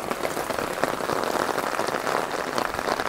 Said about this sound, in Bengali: ডোমের ওপরের শেডের ওপরে যে বৃষ্টি পড়ছে তার একটা আওয়াজ পাওয়া যাচ্ছে